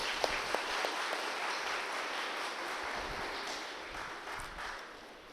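Audience applause at a spiritual discourse gathering in Chennai, a steady, fairly distant wash of many hands clapping that holds for several seconds and slowly tapers, with no talk over it.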